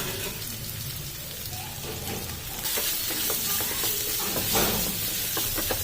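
Tomato and spice masala with Kashmiri chilli powder and turmeric frying in a pan over a medium gas flame, stirred with repeated scraping, under a continuous close sizzle.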